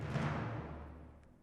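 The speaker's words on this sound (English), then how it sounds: "it's like basically timpani" A timpani roll in a music mix gives a brief, low, booming rumble that swells and then fades away over about a second and a half.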